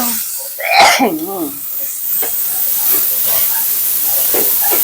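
Pork stir-frying in a pan for a Thai home-cooked dish, a steady close hiss and sizzle running throughout with a brief burst of voice near the start.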